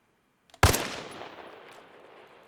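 A single armor-piercing sniper rifle shot from Arma Reforger, one sharp loud crack after a brief near-silence, followed by a long rolling echo that fades out over about two seconds.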